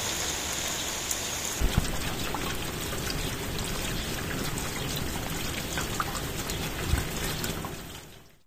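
Steady rain falls on a surface with a dense, even hiss of drops that holds constant throughout, with a couple of faint low knocks, then fades away at the very end.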